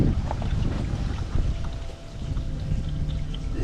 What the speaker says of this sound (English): You can hear water running